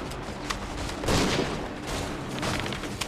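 Scattered soldiers' gunfire in the Assassin's Creed 3 video game, a dense volley around the one-second mark amid ongoing shots at moderate distance, with no talk.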